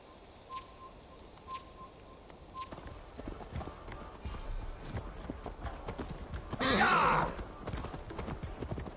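Rhythmic horse hoofbeats in Assassin's Creed Valhalla clop along at a steady gait under a quiet ambient bed, followed by a brief louder rustle.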